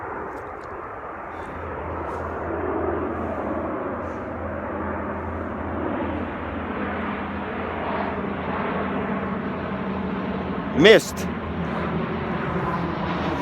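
Airplane flying almost directly overhead near Cherry Beach in Toronto, a steady broad engine roar holding loud throughout, with a brief sharp sound near the end and a voice speaking faintly over it.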